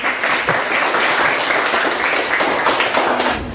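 A classroom of students claps for a presenting group, a dense, close burst of applause lasting a few seconds before fading out.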